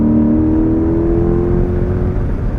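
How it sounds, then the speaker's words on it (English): A 2021 Chevrolet Corvette Convertible Z51 engine drones loudly and steadily, a deep exhaust rumble with the baffles open and a slight rising pitch, no voices. "The sound is so much better. Opens up the baffles in that exhaust."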